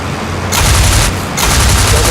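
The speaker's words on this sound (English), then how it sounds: "Watch the bullets bounce off the ground." Machine-gun bullets strike the ground in the IL-2 Flying Circus flight game, two dense bursts of rattling, crackling impacts separated by a brief lull, loud and close over a steady low engine drone.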